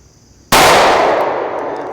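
A single shot from a SIG P365 pistol striking a steel target, one sharp loud crack with a long ringing metallic decay, heard alone.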